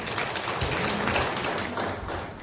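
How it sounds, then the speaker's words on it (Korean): Audience applause for a presenter at a manufacturing innovation open forum in Gumi, a steady, dense wash of clapping from a crowd filling the hall throughout. "박수 부탁드리겠습니다."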